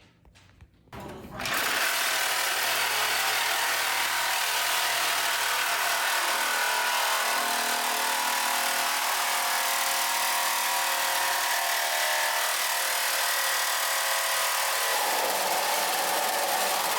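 A power tool cuts metal around the hood latch support of a Jeep WJ, a steady loud high-pitched whine and grinding that starts after a brief quiet moment and runs continuously, easing slightly near the end.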